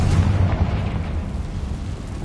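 A Confringo fire spell in Hogwarts Legacy bursts with a deep, rumbling blast that rolls on as a low roar before gradually easing off.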